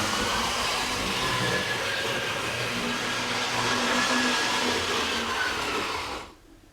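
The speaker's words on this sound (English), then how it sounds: "You can sure hear those knurled wheels on the track there" A model train with knurled wheels rolls steadily along its track, a continuous close whirring rumble with a faint metallic whine that cuts off abruptly at the end.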